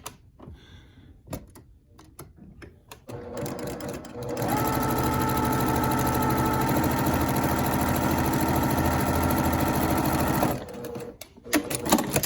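Sewing machine running a quarter-inch seam on hexagon quilt pieces, a loud steady whirring stitch that holds for about six seconds, with brief handling taps and clicks before and after.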